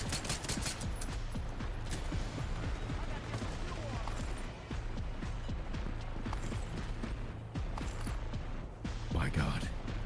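Light machine gun fire rattles in rapid, dense bursts during a firefight in the Division 2 video game, loud and busy throughout with clattering mechanical noise mixed in.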